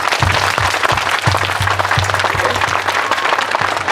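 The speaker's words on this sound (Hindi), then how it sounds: "एक बार गर्ल स्टूडेंट्स के लिए जोर से तालियां बजाइए।" Loud, dense applause from parents and students for the girl students at a school prize distribution and investiture ceremony, a sustained roar of many hands with a low electrical hum and occasional thumps beneath it.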